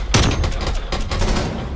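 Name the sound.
gunfire in Call of Duty video game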